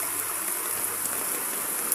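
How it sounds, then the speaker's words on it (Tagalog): Floodwater from heavy rain rushing down from a mountain, a constant broadband roar of moving water, steady and fairly loud throughout with no voices. "Yung tubig na yun, galing yun sa bundok."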